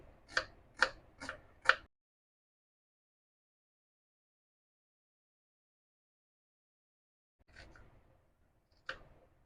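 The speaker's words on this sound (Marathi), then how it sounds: "कांदा आपण बारीक चिरून घेणार आहोत" An onion is chopped finely with a knife for a Konkan-style kulith pithla: four quick, evenly spaced knife strikes on a board, a long silent pause, then two more faint, isolated chops.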